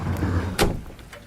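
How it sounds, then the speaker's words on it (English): A door bangs shut once, a single muffled thump in the middle of low room rumble, fairly close and moderately loud. "Bloody door, Beethoven."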